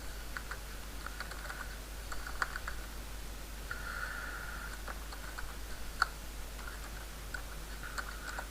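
Typing ActionScript code on a computer keyboard, a quick irregular run of close, light key clicks with small pauses, quiet and alone over faint background hum.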